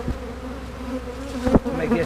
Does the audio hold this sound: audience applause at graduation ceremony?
no